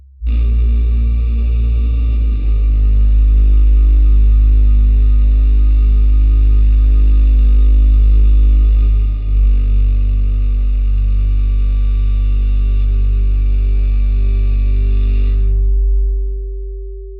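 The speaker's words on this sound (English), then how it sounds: "If you listen to the soundtrack with some headphones, you're gonna feel it in your ears, like a constant low hum vibration" Electric cellos drone low, sustained notes in a film score, a loud, thick and distorted hum with echoing, chorus-like texture that holds steadily before cutting off near the end, leaving one lingering tone.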